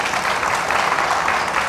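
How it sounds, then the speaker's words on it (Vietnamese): Audience applause at a Vietnamese couples' TV game show, a steady dense wash of many hands clapping together, loud and sustained throughout without pauses. "Cho một tràng pháo tay rồi."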